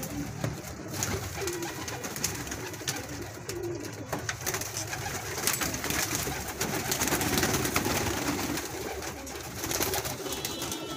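Pigeons cooing inside a loft, a steady chorus of soft, throaty coos layered over one another, with wing flutters and scratchy rustling throughout.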